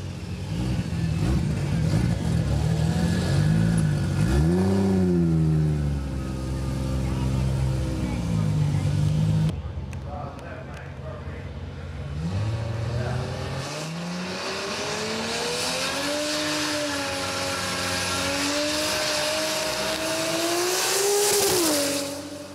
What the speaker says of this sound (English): she's squealing tires all the way down the track, boy